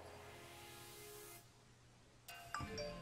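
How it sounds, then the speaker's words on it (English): A phone chimes with a short message notification after a hum of background noise, a couple of bright tones ringing out briefly near the end. "That was my phone messaging."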